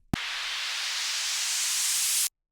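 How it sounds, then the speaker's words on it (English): White noise riser sample from a drum kit, used in music production: a broadband hiss that starts abruptly, swells gradually and slightly brightens over about two seconds, then cuts off sharply into silence. "I used a white noise riser from one of the drum kits I use."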